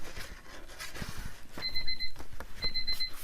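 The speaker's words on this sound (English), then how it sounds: "I have a timer on my phone that goes off when it's time for me to take" Phone timer alarm, two short bursts of a bright electronic beeping chime, moderately loud over faint rustling and handling noise in a crafting room.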